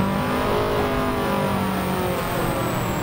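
A Subaru race car in Gran Turismo 7 holds its engine at a loud, steady high rev while waiting for launch, with a constant close roar and a faint rising whine.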